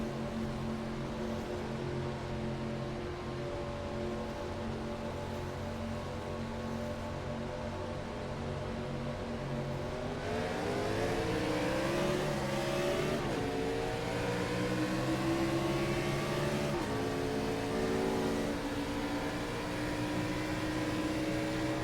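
An iRacing Gen 4 race car at Atlanta with a steady engine drone that rises into hard revving around the midpoint as the tires spin, the pitch sweeping upward and staying loud to the end.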